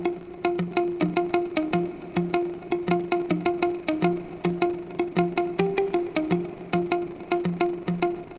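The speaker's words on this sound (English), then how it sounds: "I added the muted guitar to keep the groove going and make it even more vibey" An FL Studio afrobeats loop with a muted guitar picking a steady, bouncy pattern of short plucked notes, looping evenly throughout, with a softer percussive pulse underneath and a light effects sheen.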